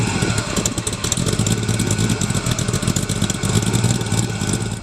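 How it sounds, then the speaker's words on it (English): A 700-horsepower DDR GT8X with a V8 and large Magnaflow exhaust cans rumbles steadily and loudly nearby, a deep, continuous burbling idle with light revving pulses and no talk. "there are some massive cans installed to give it that distinctive muscle car rumble that we all know and love through the Magnaflow exhaust system"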